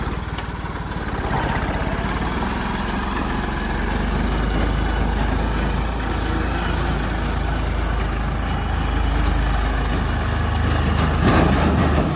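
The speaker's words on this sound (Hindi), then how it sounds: "आजकल रिवर्स में ट्रैक्टर भगाने में बहुत मज़ा आ रहा है" A tractor engine runs at high speed in reverse, a loud steady diesel clatter and rumble throughout, close to the microphone with no talk.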